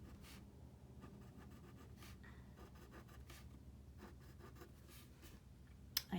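Pen or pencil scratching on paper while sketching line segments, a steady close scraping with short strokes and a small tap near the end, no voice.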